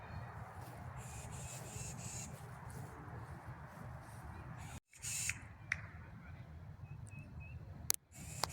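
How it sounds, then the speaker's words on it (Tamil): A bird calling outdoors in a city park, a few short cries over a constant background hiss of wind and distant traffic, with a brief sharp break partway through. "இங்கே பாரு, அந்த பேர்டு எப்படி சத்தம் போடுது பாரு."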